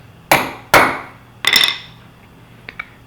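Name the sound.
hammering a round rivet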